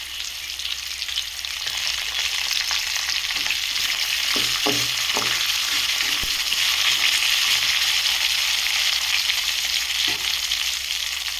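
Bitter gourd pieces frying with curry leaves in an oiled pan give a steady, bright sizzle throughout, with a few soft stirring scrapes and taps partway through, close up and without speech.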